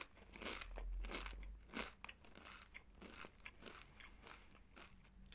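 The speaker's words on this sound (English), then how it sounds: "I forgot to mention, I'm also eating crisps." Crisps being eaten close up, with steady crunching bites and chewing that repeat every half second or so, crisp and intimate against a quiet room, no voices.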